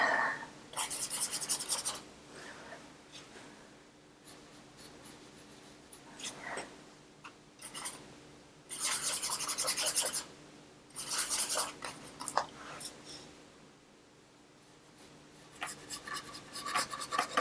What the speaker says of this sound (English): see how I'm kind of just scrubbing that in